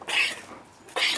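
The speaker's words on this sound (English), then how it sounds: "One of the goats is coughing." Two short, harsh coughs from a goat, the first longer and the second a sharp burst after a quiet pause, fairly close.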